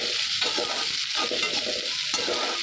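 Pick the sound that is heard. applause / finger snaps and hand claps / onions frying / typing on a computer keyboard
onions frying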